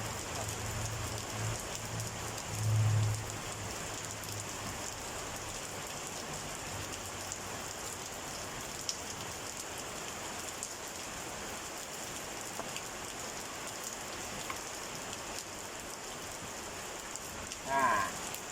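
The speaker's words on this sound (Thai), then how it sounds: "ฝนตกแรงแล้วพี่น้องนะครับ" Heavy rain falling steadily outdoors, a dense continuous hiss of drops on surfaces with no letup, with a couple of brief low thumps in the background.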